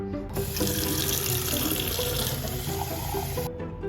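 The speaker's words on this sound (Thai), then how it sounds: "เดี๋ยวผมจะใช้การหยดน้ำเอานะครับ" Water runs into a hedgehog's habitat, a steady close splashing stream that starts abruptly, holds for about three seconds and then cuts off, with no talk.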